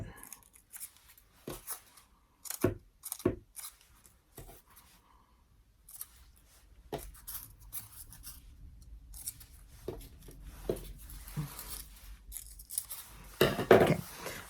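Scissors snip through paper carnation petals in quick irregular clusters of sharp cuts, close and fairly quiet, with soft rustling of paper between them.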